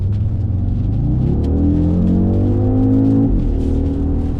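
An Audi RSQ3's low exhaust drone rises steadily in pitch as it accelerates onto a motorway, then drops briefly at a gear change and climbs again, loud and close.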